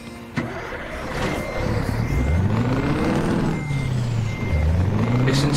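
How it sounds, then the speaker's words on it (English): A heavy truck in Euro Truck Simulator with the ProMods mod, on a snowy road: the engine drones and rises through repeated rev sweeps as it climbs the gears, with a steady electronic tone and beeping over it and no talk. "Listen to the sound of this truck."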